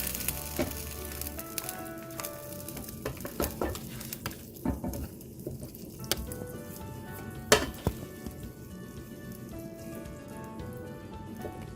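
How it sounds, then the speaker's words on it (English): Chopped cilantro being stirred into a pan of garlic pepper chicken ghee roast, with a busy crackling sizzle and repeated scraping and knocking of the spoon against the pan, close and steady throughout. "Stir in some cilantro, chopped cilantro leaves just before serving."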